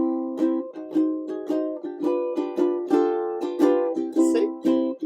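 A ukulele strums the chords of a song in a steady four-beat rhythm, each bright chord ringing briefly before the next stroke, close and clear with no talking.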